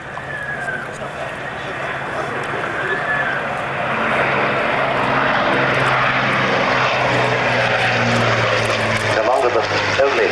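Deep, droning roar of a Lancaster bomber's propeller engines flying over an air fair at Biggin Hill, steady and building slightly in loudness, with people talking underneath.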